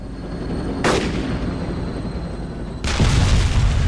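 Tank cannon fire in the game DayZ: two loud, heavy booms about two seconds apart, the second one deeper with a lingering rumble, over a steady wash of background noise and no speech.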